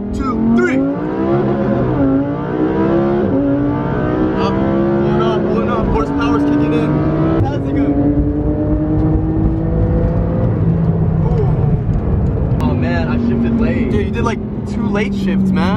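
Porsche 911 GT2 RS and Lamborghini Huracan Performante accelerate hard from a 30 mph rolling start, engines droning and rising through the gears with shift dips, loud and continuous with talk over the top.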